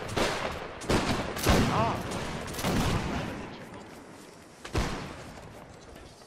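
Musket volleys crack out in a Napoleonic Wars battle game between Prussian and Royal armies, several loud sharp shots in bursts with a louder late report, while a player shouts briefly.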